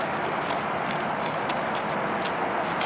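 A horse lopes in a western pleasure gait. Its hooves clip-clop in a quick, even rhythm, fairly faint beneath a constant hiss of outdoor noise.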